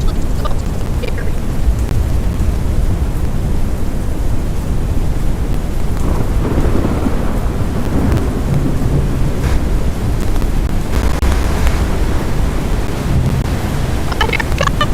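A 119 mph tornado brings a dense, constant roar of wind and storm noise. The pounding rumble, like heavy rain and thunder, fills the whole stretch with no pause.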